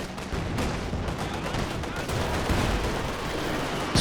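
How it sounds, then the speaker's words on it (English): A Katyusha rocket barrage lands in a Company of Heroes 2 match, with dense crackling volleys of blasts and booms under a steady din, sharper impacts punctuating the roar. "Barrage into the center. Got the Katyusha coming down now as well."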